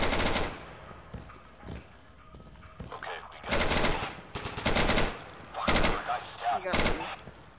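Bursts of automatic gunfire in a Garry's Mod game come in loud clusters over several seconds, broken by short gaps, with players talking between the shots.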